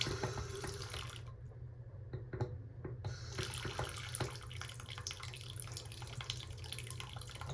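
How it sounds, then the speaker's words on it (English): An indoor faucet left dripping into a sink to guard against freezing, a faint, steady trickle of running water with scattered small drip taps, quiet and close, with no talking. "we will drip all of the interior faucets like this"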